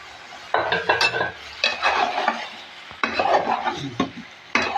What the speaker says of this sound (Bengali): মাছটাও মশলা দিয়ে আমার কষানো হয়ে গেছে এখন আমি সবজিটা ঢেলে দিলাম